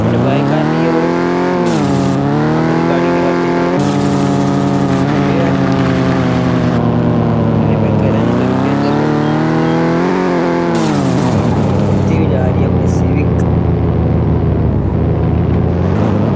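A Honda Civic in the mobile game Car Parking Multiplayer drives a long stretch, its engine droning loudly and continuously as it revs up and eases off in repeated waves, while someone talks over it.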